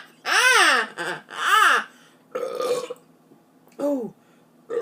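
Loud, deep belches from a woman who has been drinking soda, two long rumbling burps close together, then a shorter one and a final croak, recorded up close.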